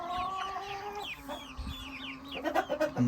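Bielefelder and Amrox chickens cluck close by, a mix of short choppy clucks and drawn-out calls, with a busier flurry of clucking toward the end.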